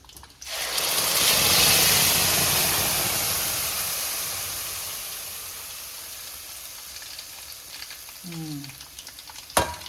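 Ground coriander chutney hits a hot tempering pan with a loud burst of sizzling that slowly fades into a steady hiss, followed by a few faint clinks near the end.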